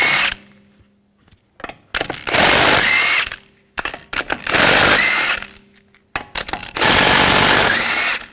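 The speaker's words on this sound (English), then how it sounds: "Using a 17mm socket, we want to take these lug bolts out." An impact wrench or ratchet with a 17mm socket spins the lug bolts off the wheel of a 2007–2013 BMW 328i. There are three loud, close bursts of mechanical ratcheting, each set apart by short pauses and softer tool clicks.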